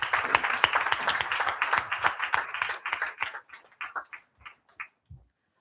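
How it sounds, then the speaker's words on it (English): Audience applause for awardees at an International Clinical Trials Day ceremony: a burst of clapping that thins out into a few scattered last claps before stopping. "please join me in one big round of applause for all our awardees today"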